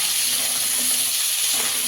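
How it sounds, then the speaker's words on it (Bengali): Pieces of crab fry gently in hot oil, giving a steady, even sizzle that holds at one level throughout, close and continuous with no talking. "বেশি ভাজবো না হালকা করে ভাজবো কাঁকড়াটা"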